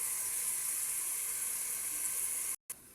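Shrimp sauté for chop suey in a hot pan with a steady, bright sizzle that holds evenly. It breaks into brief silence near the end and then resumes more quietly.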